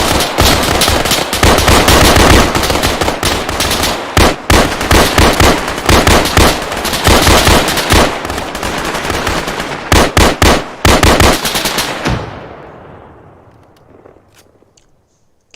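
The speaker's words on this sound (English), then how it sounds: "Guns! Open fire!" Dense automatic gunfire from the Arma 3 military simulation game, loud and close, with rapid overlapping bursts that continue for about twelve seconds before cutting off and fading to a few scattered distant shots.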